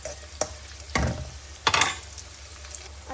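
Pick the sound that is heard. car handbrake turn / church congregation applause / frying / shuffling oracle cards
frying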